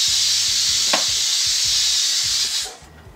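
Chili-powder masala-coated fish frying in a pan, a loud, steady, close sizzle and hiss that runs for over two seconds, then dies away quickly to near silence.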